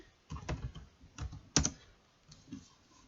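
Keys clatter on a computer keyboard in short irregular bursts, one louder press standing out midway, close and fairly quiet with no talking.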